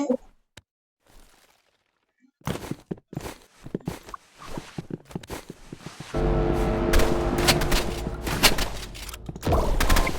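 Pistol gunshots ring out in a video game, starting as scattered sharp cracks and then becoming dense rapid bursts mixed with footsteps and thuds.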